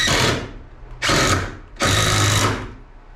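A power drill drives a screw into a wooden rafter tie in a tiny off-grid cabin, three close, loud whirring bursts with short pauses between them.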